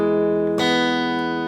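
A fingerstyle acoustic guitar chord rings out, then a second chord is plucked about halfway through and sustains, clear and close with no talking.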